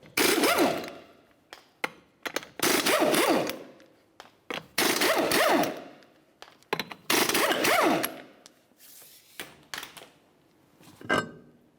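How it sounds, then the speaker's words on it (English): An impact wrench takes the four 21mm lug nuts off the wheel of a 2004-2006 Scion xB in several loud, rattling bursts with short gaps between them. "continue on to your 4 21mm lug nuts and then remove the wheel"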